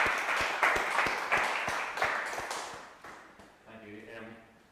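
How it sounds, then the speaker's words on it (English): Audience applause after an artist talk, a dense patter of clapping for about three seconds that thins and fades out, ending with a brief voice speaking. "Big round of applause."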